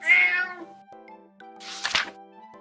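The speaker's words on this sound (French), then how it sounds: "Cat." Cartoon cat meowing, a drawn-out high meow followed by a shorter one over a soft held musical note, close and alone.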